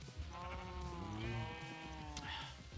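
Blocky Minecraft sheep bleat repeatedly in a video game, several wavering cries overlapping close up and fairly loud, with no one talking.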